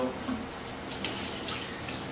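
Water running from a tap as a dish is rinsed at a sink, with a steady broadband splash close by and no voices.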